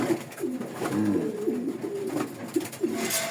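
Foreign-breed pigeons newly paired in a loft coo in repeated low, soft throaty phrases, several calls overlapping closely with light background noise and no talking.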